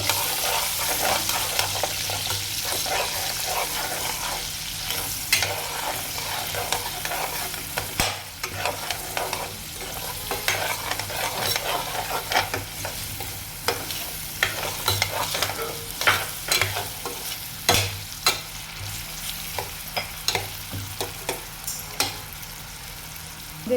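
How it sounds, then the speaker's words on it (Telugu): Onion pieces frying in a pan for a paneer curry, a continuous sizzle with frequent spatula scrapes and clinks, close and steady for the whole stretch, louder toward the end. "ఉల్లిపాయలంతా బాగా వేగాలండి పచ్చివాసన పోయేదాకా వేయించుకోవాలి"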